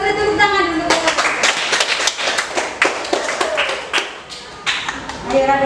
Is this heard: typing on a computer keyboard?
no